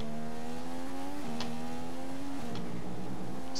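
An F1 2015 race car accelerates hard out of a corner at the Chinese circuit in a PC racing game, its high engine whine climbing loud and close through several quick upshifts, with no voices.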